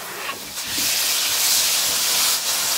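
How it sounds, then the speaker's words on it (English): Chopped tomatoes hitting a hot pan of zucchini sabji, a sudden loud steamy hiss that swells and holds close for a few seconds. "now we are going to put the tomatoes which we have chopped"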